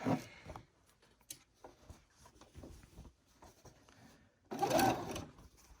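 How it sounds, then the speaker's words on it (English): A sewing machine back-stitches a seam on a fabric bag, with short quiet runs of stitching and then a loud, dense burst near the end, close up and without talk. "I'm also gonna do a little bit of a back stitch."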